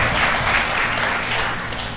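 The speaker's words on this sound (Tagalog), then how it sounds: "Bigyan nga natin po ng mataas na palakpak ang ating dakilang Ama." Congregation clapping at a Sunday worship service, a dense continuous patter of hands filling the room, steady and fairly loud throughout with no voices over it.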